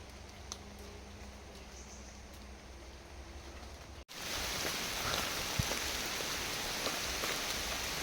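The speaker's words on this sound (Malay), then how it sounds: "Hujan dah mulai turun." Rain beginning to fall in a forest, a faint hush that suddenly swells into a dense, steady patter of drops close by.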